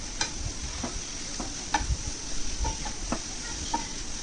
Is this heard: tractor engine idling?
no